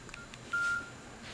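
A cell phone keypad gives a short electronic tone as a temperature reading is entered, one clear beep over quiet room background with faint earlier key clicks.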